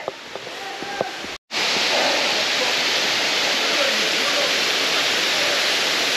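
A waterfall on the Piche cascades near Prayols in the Ariège roars steadily as a loud, continuous wash of rushing water. Quieter outdoor sounds are heard first, then a brief cut, then the full roar.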